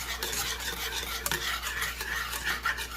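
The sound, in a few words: whisking beef cube gravy in a pan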